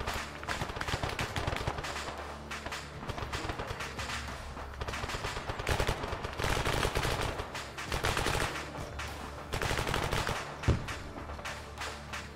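Dense, sustained gunfire from an attack in the military video game Arma 3, with rapid automatic bursts and overlapping shots filling the whole stretch, loud and continuous with brief gaps.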